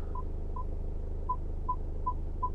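Warning beeps from the parking sensor of a BMW 118d sound six times at a steady, moderate pace, short and fairly faint over a low engine hum inside the car.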